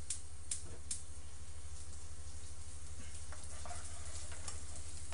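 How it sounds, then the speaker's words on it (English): Shrimp and butter sauté in a pan on a cabin stove, a loud, steady close sizzle with scattered sharp spatters and utensil scrapes, no speech. "We're going to saute these up."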